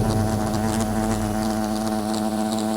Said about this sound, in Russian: на нее напали осы